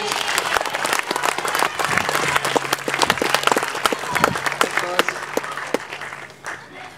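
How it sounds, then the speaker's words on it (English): A crowd applauds at a Year 7/8 district tournament prize-giving ceremony, loud sustained clapping with sharp individual claps standing out, a few voices mixed in, tapering off near the end. "final round of applause for Manukau."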